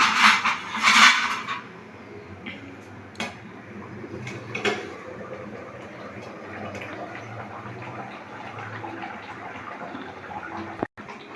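A metal lid clatters off a pot of partly cooked mutton for biryani on a switched-off gas stove, a bright clink up front followed by a few lighter knocks and soft kitchen handling noise, with no talk.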